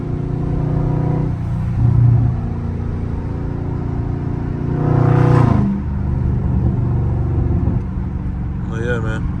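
SRT car in track mode with the driver shifting manually; the engine rumbles steadily, swelling into two louder revs with gear changes, while someone talks over it throughout.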